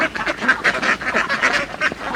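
Ducks on an enclosed duck farm quack over and over, a close, loud, busy chorus of overlapping honking calls filling the whole stretch.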